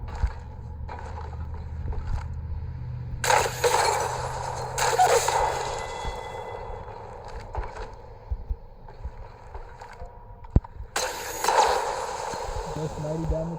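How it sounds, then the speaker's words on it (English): A charge rifle fires in Apex Legends Mobile, sharp loud charged shots cracking out at intervals, each followed by a bright ringing tail, between quieter stretches of ambient game noise. "Now we're gonna check the charged rifle."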